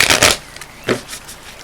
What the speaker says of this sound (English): let's get one last shuffle here